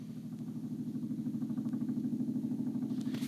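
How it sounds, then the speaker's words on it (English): A steady low thumping rotor-like drone with a rapid regular pulse grows slightly louder, a helicopter passing at a distance, fairly faint. "That's a helicopter."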